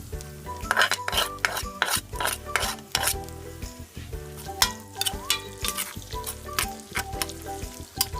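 Onion sizzles in hot oil with garlic in a pan as it sautés toward golden brown, with utensils scraping and tapping against the pan over steady background music.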